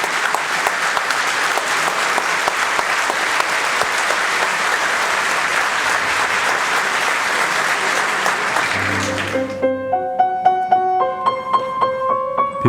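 An Israeli concert audience applauds warmly as pianist Kun-Woo Paik walks onstage, a dense, sustained wave of clapping for about nine seconds, followed by an orchestra tuning and playing scattered notes.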